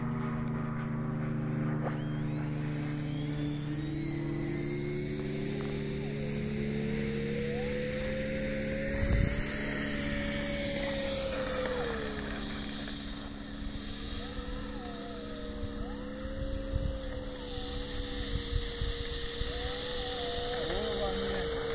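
A model airplane engine at a model airfield in Svätý Jur–Šúr, Slovakia, drones steadily while taxiing, its pitch rising and falling as the throttle changes, loud and near with some background noise.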